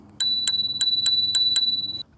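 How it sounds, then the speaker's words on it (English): A handlebar click bell on a Hiboy Q2 folding electric scooter rings six times in quick succession, bright metallic pings close to the microphone with a short ringing tail after the last strike. "it does have the click bell"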